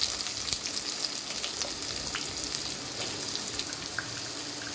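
Chopped onions hit hot oil in a pan for a crab curry, a bright, steady hiss and crackle of frying that stays close and continuous with a few faint clinks, no voices.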